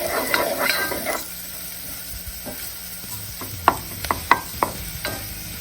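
Garlic and chilies sizzle softly in a pot for spicy miso ramen, a steady low frying hiss broken by several sharp clinks and scrapes of a utensil against the pot near the end.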